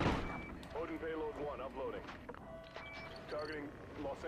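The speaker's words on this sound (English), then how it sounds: "Who knew you could shoot in space?" Gunfire in space during the Call of Duty Ghosts campaign mission Odin Down pops in short bursts at low volume, mixed under voices talking over the action.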